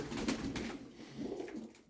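Low, soft pigeon cooing in two rolling bursts, close by, with a gentle throaty warble and no talking.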